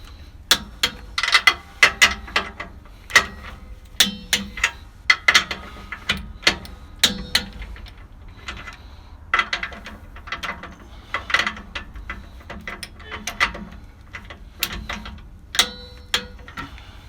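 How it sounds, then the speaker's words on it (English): A 19mm torque wrench tightening bolts to 55 pounds on a truck's bump stop hardware, loud close ratcheting clicks in repeated rapid bursts with short pauses between, no voices. "grab our torque wrench, same 19mm, we're going to make sure that these are all down to 55 pounds"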